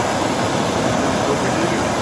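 A heat gun blows a loud, steady, unbroken broadband roar while heating a Model A Ford top front trim molding, continuous and close with no talking.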